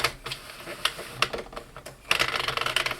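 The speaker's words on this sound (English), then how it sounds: "then you just crank slowly" Slow cranking of a Sentro knitting machine, with a string of light plastic clicks and ticks that grow denser and louder toward the end, close by with no talking.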